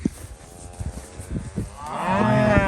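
Cattle on a farm moo out in a field, ending in a long, loud low moo. Scattered, softer lowing and rustling come before it, with no speech.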